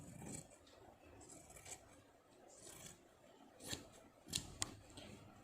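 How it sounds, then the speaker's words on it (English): Scissors cut through fabric along a quarter-inch sewing line at the centre front of a garment, giving quiet, close snips and paper-like scrapes at an uneven pace, with a few sharper clicks near the end. "Start cutting the 1/4 inch line"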